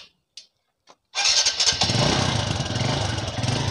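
A motorcycle is started with its electric self-starter: a few short cranking bursts, then the engine catches and settles into a loud, close, steady idle with a rough rhythmic throb.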